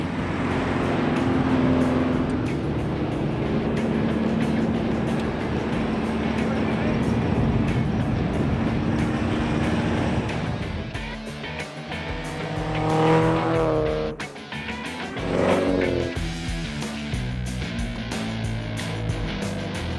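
A Triumph TR3 sports car drives hard with a loud, continuous engine drone, then revs rise and fall through gear changes with squealing tyres, heard close with some talking over it.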